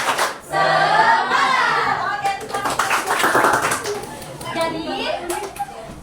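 In a school classroom, students beat out a rhythmic 'tepuk semangat' clap chant while a teacher's voice leads and children's voices call out over the claps.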